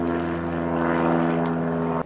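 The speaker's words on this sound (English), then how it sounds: "oh, there's an airplane." An airplane flying overhead outdoors makes a loud, steady droning engine hum that holds evenly for about two seconds before dropping off sharply at the end, with no voices.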